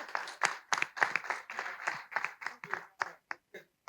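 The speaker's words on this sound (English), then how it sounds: "Please clap for Baba." Audience at a community-building panel session clapping for panelist Baba Wale: a modest, uneven round of separate claps from a smallish group that thins out and trails off into a few isolated last claps.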